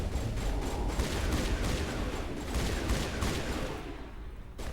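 Continuous gunfire from a Mass Effect shootout at Zhu's Hope, a dense unbroken rattle of rapid shots and impacts that stays loud throughout and thins slightly near the end.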